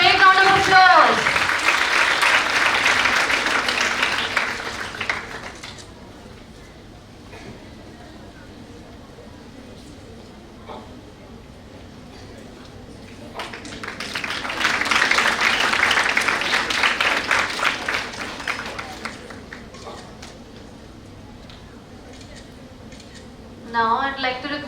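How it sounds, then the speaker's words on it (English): Applause rises for a Brahma Kumaris guest accepting a memento from Biyani Group of College on stage at the India Japan Fest BICON 2019. Two strong bursts of clapping are separated by a quieter stretch with faint murmuring. "Please give her a big round of applause."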